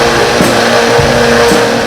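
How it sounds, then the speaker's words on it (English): A blender whirs loudly and continuously, blending ginger, green onion, olive oil and soy sauce into a smooth marinade, its steady motor drone broken by a few brief pulses. "Let's blend the ginger, the green onion,"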